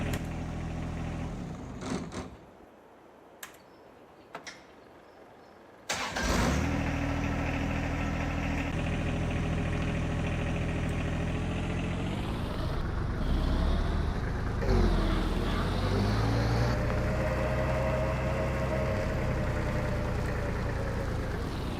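A John Deere 1025R compact tractor engine in a video game cranks and catches after a few quiet seconds, then settles into a steady, loud diesel idle with slight rises in revs.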